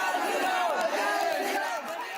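Students, many wearing saffron scarves, shout slogans as a crowd at a school during a hijab ban protest, a dense overlapping mass of raised voices, close and continuous.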